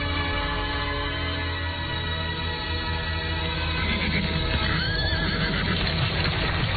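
Horses pulling a carriage in a radio drama, with steady hoof clatter and a rumbling rolling sound running continuously and fairly loud, and a brief whinny near the end.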